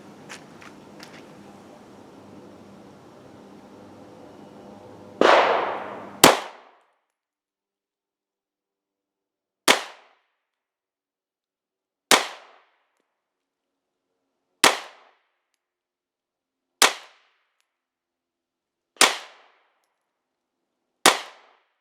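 A Polymer 80 Glock 19 pistol fired eight rounds at an outdoor range from 5 yards: sharp, loud single shots, the first two close together, then six more at even intervals of roughly two seconds, each ringing briefly into silence.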